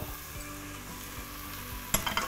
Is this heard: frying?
yes